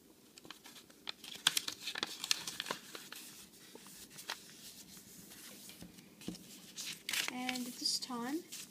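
Paper being creased and folded into an origami dragonfly gives crisp, close crinkles and rustles in short bursts, with a few sharper snaps of stiff paper near the end.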